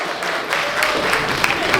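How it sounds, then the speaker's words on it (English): Audience applause at a steampunk costume contest, a steady wash of many hands clapping at moderate volume with a few louder claps poking through, and faint voices mixed in. "All right, round of applause."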